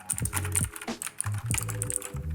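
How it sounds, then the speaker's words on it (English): Rapid clacky keystrokes on a budget Red Dragon mechanical keyboard, close up, in short uneven bursts with brief pauses between. "Keys definitely have a much more mechanical sound"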